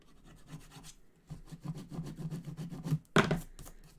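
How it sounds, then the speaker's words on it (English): A hand rubs repeatedly over glued card paper on a handmade card, a soft rhythmic scraping of short strokes up close, with a louder burst near the end and no talking. "Just give that a rub."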